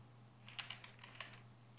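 Several players tap out guesses on computer keyboards during an online Pinturillo drawing game, giving faint, scattered clicks of keys over a quiet background hum.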